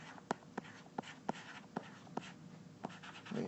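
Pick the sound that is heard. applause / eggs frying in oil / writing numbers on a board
writing numbers on a board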